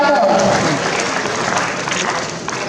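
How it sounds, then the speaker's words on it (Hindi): An audience claps loudly and steadily for appointment-letter recipients at a district employment festival ceremony in Jaipur's Birla Auditorium, with a voice briefly audible at the start. "जोरदार ताली बजती रहनी चाहिए"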